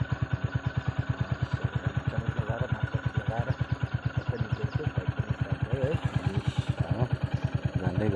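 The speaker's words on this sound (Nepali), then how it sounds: "बाइक स्टार्ट हुँदैछ हल्का है तपाईँलाई साउन्ड सुनेको" A motorcycle engine on the Rhenock road runs close by with a fast, even pulsing thump throughout, steady and fairly loud.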